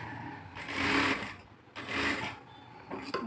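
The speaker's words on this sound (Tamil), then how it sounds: "ஒரு 1/4 இன்ச்சுக்கு தையல் போட்டு வரணும்." A sewing machine runs a quarter-inch seam along a folded blouse lining hem in three short bursts of stitching, close and fairly quiet.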